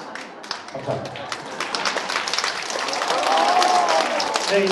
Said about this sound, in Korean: 이제 진정한 박수가 나오겠죠?